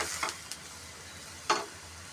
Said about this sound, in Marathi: या मसाल्या सुक्या मसाल्याला आपण छानपैकी मस्त परतून घेणार आहोत